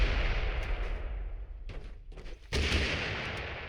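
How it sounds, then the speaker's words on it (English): Gunfire in the battle-royale game Totally Accurate Battlegrounds: loud, dense bursts of shots that fill most of the span, dip briefly in the middle, then resume at full strength, with no talking. "I hear gunshots"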